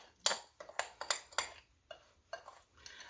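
Pumpkin seeds being spread across a foil-lined baking pan, a string of light clinks and crinkly taps in an irregular rhythm, close and fairly quiet, with no voices.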